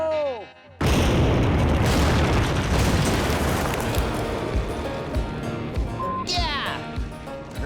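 A loud blast set off in the bush outdoors bursts in with a sudden broadband boom, then a long rumbling, crackling tail of debris and echo, with excited voices shouting near the end.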